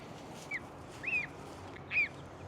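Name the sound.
geese and chickens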